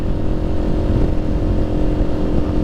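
A Kawasaki Ninja 400 motorcycle engine runs steadily at close range, a loud, even drone with a constant low rumble and no clear revving changes across the few seconds.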